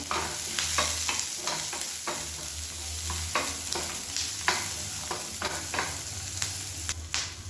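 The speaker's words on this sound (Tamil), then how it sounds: "வெங்காயம்லாம் நல்லா வதங்க ஆரம்பிச்சிருச்சு" Onions sautéing in a pan for an idli white kurma, a steady close sizzle with repeated scraping stirs of a spoon throughout, no voices.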